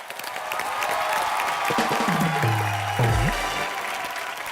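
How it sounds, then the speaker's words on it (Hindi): A studio audience at a televised Indian entertainment show breaks into broad, sustained applause that fills the whole stretch at steady loudness, with a low tonal sweep rising through the middle. "तो सबसे पहले उसके लिए तालियां"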